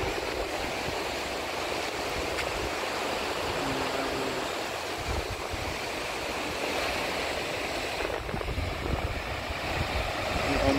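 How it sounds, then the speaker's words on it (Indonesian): Ocean waves wash continuously onto a shore near seaside huts on Ambon, a broad, steady surf roar with gentle swells and no clear voices. "Ombaknya"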